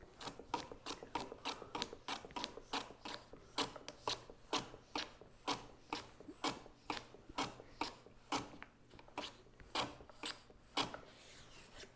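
Wood being shaved by hand to fit a mitered lid liner, a rhythmic series of about twenty crisp scraping strokes at a steady pace, close and clear with no talking.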